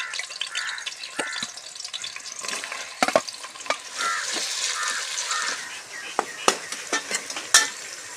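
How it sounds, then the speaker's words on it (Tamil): Onions sautéing in oil with garam masala and green chilies, a steady soft sizzle punctuated by sharp clinks and scrapes of a spoon stirring in the pan, close and moderately quiet. "வெங்காயம் நல்லா வதங்கிடுச்சு"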